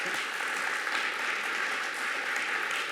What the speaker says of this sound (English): an applause would be very much in place